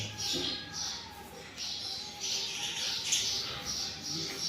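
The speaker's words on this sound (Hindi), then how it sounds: "आपको चहचहाहट भी सुनाई दे रही होगी। ये गोरैया है" House sparrows chirp in a village temple courtyard on the Gandak riverbank in Bihar, with faint, repeated high tweets over quiet background hum, soft and somewhat distant.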